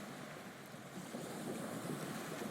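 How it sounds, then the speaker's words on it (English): A ferry's engines hum low and steady as the boat slows coming into port on an island trip, blended with wind and lapping water, soft and even. "The ferry engines slow because it is coming in to port."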